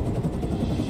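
Helicopter in the Hitman 3 game setting, Dubai, a loud, dense, rumbling rotor-and-engine roar that is steady and close throughout the brief moment, with no talk.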